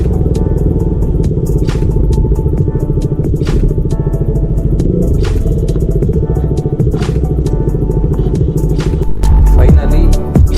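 A motorcycle climbs a foggy hill road in the Chikkamagaluru hills, its engine a loud, steady throbbing rumble close to the rider, with clattering and a burst of revving near the end and no speech.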